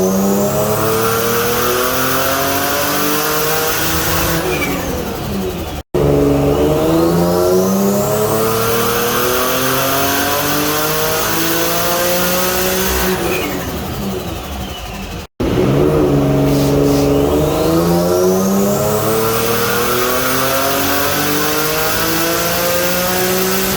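A Honda S2000 engine runs on a dyno, revving loudly up through repeated rising pulls to high RPM, then dropping back, with two short silent cuts between the runs.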